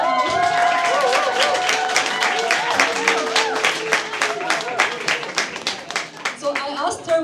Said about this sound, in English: A huge applause for Nibal